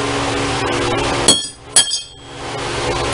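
A steel blade is driven point-first into a concrete floor to test its temper, giving two sharp, ringing metallic impacts about half a second apart over a steady background hum, then near silence.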